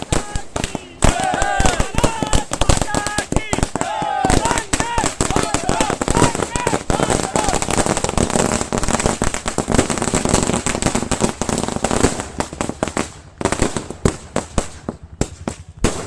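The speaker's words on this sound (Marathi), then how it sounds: "सावंतवाडीतील स्वराज्य संघटनेने फटाक्यांची आतिषबाजी करून जल्लोष साजरा केला" A long string of firecrackers goes off in rapid, crackling bursts of sharp bangs at a celebration in Sawantwadi, loud and close, with people shouting and cheering over the barrage before it thins out.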